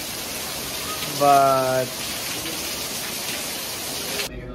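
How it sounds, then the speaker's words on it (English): Heavy rain pours steadily near a beach, a dense continuous wash of water with a brief spoken word and a short tonal voice over it before it cuts off. "Now it's raining really hard"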